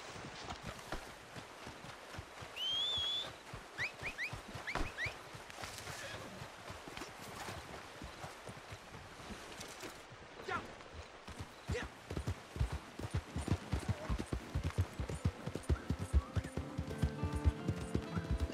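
Horse hooves clip-clop in Red Dead Redemption 2 online, a steady walking rhythm that grows louder and quicker toward the end, mixed with faint game ambience, a brief whistle-like tone and a few scattered sounds.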